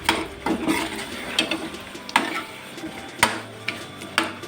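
Chicken, potatoes and spices are stir-fried together in a pan, with a steady faint sizzle under repeated scraping and knocking of a spoon against the pan at irregular intervals, close by and without talking.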